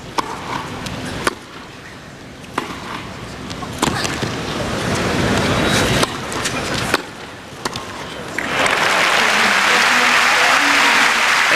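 A tennis crowd applauds at the end of a 2000 women's match at the Chase Championships, sustained loud clapping from a large arena that swells toward the end, with a commentator talking over it.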